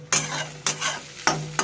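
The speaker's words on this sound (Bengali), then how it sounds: "পেঁয়াজটা একটু লালচে ভাজা হয়ে গেছে" Onion and whole spices fry over low heat in a pan, with four sharp stirring scrapes in quick succession over a bright, steady sizzle, close and clear with no voices.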